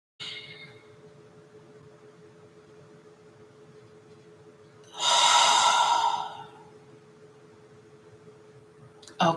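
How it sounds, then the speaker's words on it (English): During a guided meditation, one deep breath in or out sounds as a soft, airy rush of about two seconds, rising out of quiet room hiss and falling away again. "Let us breathe in together."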